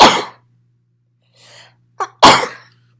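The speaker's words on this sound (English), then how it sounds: "excuse me, I'm going to sneeze." A single loud sneeze bursts out after a short breathy buildup and a quick inhale, with a brief exhale at the start, in a quiet room.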